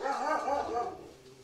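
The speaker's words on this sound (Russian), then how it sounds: "Сейчас у меня собака будет гавкать" A pet dog named Barney barks repeatedly at close range, a run of sharp yelps and woofs filling the moment with no talk over it.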